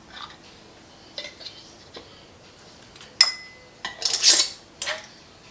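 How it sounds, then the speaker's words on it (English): Metal canning lids and rings set onto jars of sloppy joe sauce, a few sharp clinks and scrapes with a ringing metallic ping and a rattling clatter, close by and alone. "Place your lid."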